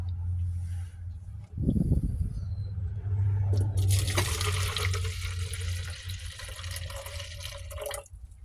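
Liquid with sediment poured off from a container during processing of chip material, a splashing, trickling pour running steadily for several seconds after a brief knock, fairly close.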